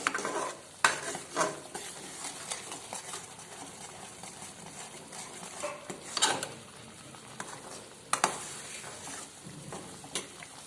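Fish pieces frying in hot oil in a pan for Nellore-style village fish curry, a steady soft sizzle with occasional stirring clinks and scrapes of a utensil, close and fairly quiet.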